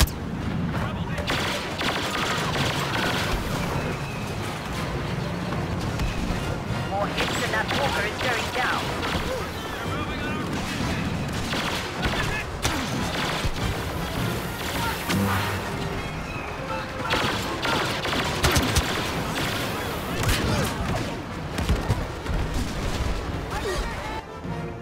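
Artillery barrage and heavy gunfire from Star Wars Battlefront's Walker Assault mode on Sorosuub Centroplex, a dense, continuous roar of blasts and booms lasting throughout, with players talking over it.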